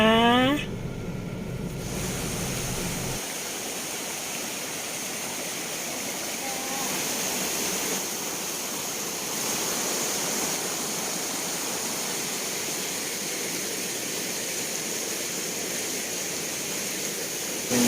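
Mae Klang waterfall pours with a steady, loud, broadband rush of water that holds unchanged throughout, after a brief bit of voice and other noise at the very start.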